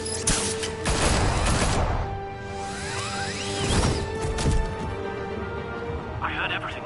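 Gunfire bursts and cracks from the Batman video game, loud bursts early then scattered shots, mixed with game voices and a whooshing sweep, ending in a faint beeping tone.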